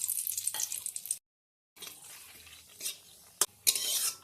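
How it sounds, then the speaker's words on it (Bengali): Whole spices, white cumin, bay leaf and dried red chilli, are stirred in hot oil in a wok for a vegetarian snake gourd and potato curry, with soft crackle and metal spoon clinks broken by a brief silent gap and a sharp clack. "ফোড়ন ভালো করে নেড়ে চেড়ে নেওয়া হচ্ছে।"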